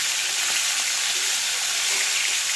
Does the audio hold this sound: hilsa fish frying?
yes